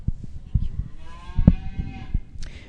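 Aberdeen Angus cattle at a show ring during the 2020 National Western Stock Show: one near, drawn-out moo rises over shuffling and clatter, with scattered knocks and a brief higher sound at the end.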